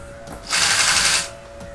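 A double-feed (walking-foot) industrial sewing machine stitches a lunch bag, a short loud whirring burst of about a second that starts and stops abruptly, close up with no talk.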